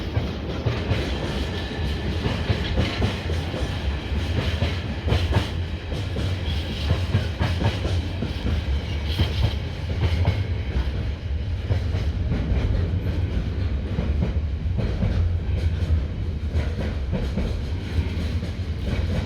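Container freight train rolling steadily past on a Suffolk rail line, a continuous loud rumble with wheel clatter and rail noise throughout, no pauses.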